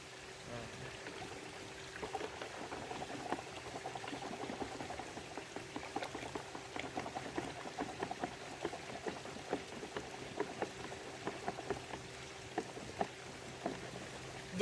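Metalaxyl and chlorothalonil fungicide mixed in water being stirred and shaken, giving a steady bubbling, sloshing liquid texture with scattered small splashes and clicks over about fifteen seconds, fairly quiet throughout.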